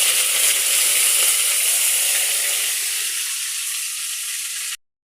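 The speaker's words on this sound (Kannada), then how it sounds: "ಈರುಳ್ಳಿ ಹಾಕಿ ಅಗರಣೆ ಸೊಪ್ಪು ಹಾಕುವ." Chopped onions and curry leaves hit hot oil with mustard seeds in a pan and throw up a loud, bright, continuous sizzle that eases slightly before cutting off abruptly near the end.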